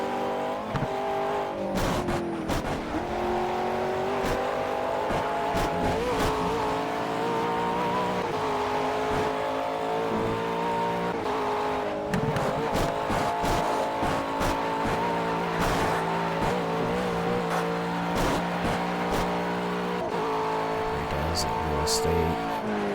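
A Ford Mustang race car driving in Project CARS, a continuous engine whine rising and falling through gear changes with occasional tire squeal, while a voice talks over it.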